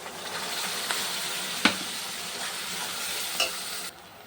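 Spices and fried vegetables sizzling in oil for a dried fish curry, a steady soft hiss with a few sharp clicks and pops from stirring, no talking.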